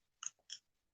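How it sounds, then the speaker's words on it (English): A person chewing food close to the mic: two short, crunchy bites in quick succession, faint, with no talking. "everybody's hearing me chew"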